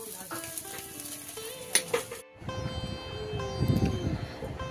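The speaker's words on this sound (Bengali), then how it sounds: "এদিকে এই যে সয়াবিনটা ভেজে নিচ্ছে, রান্না করবে তার জন্য" Soybean chunks frying in a pan for a curry in a home kitchen. A steady sizzle rises after a brief pause and carries on to the end, with other clinks and background noise in the first half.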